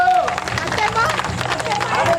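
An audience applauding at a senior citizens' association gathering in Komanpalli village, with dense, loud clapping and crowd murmur throughout a short burst.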